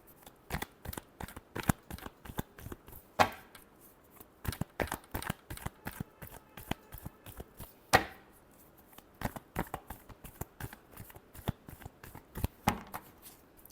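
Tarot cards are shuffled by hand in a rapid run of crisp, close riffling snaps, quiet overall with brief pauses between bursts.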